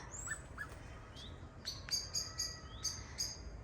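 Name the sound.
birds calling outdoors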